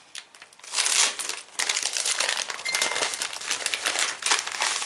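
Crinkly wrapping is pulled and crumpled as a mailed package is opened, dense close rustling in bursts with brief pauses, no talking.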